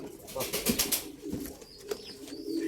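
Young pigeon chicks give soft low coos at close range, a few brief calls amid light rustling with a voice speaking nearby.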